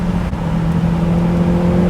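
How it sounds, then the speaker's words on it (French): Toyota MR2 Mk1 engine revving up from inside the car, a loud steady drone with a strong low hum that climbs slightly, close and continuous with no voices. "On entend bien le bruit du moteur et tout."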